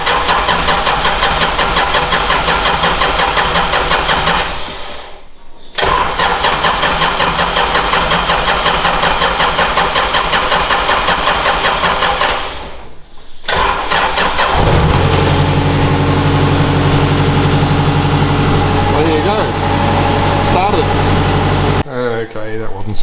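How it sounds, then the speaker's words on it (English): A TX 375T engine cranks in long grinding bursts with pauses between attempts, then catches and settles into a loud, steady idle with rising revs near the end, with voices talking over parts of it. "I revved it up a bit and it was blowing a bit of smoke."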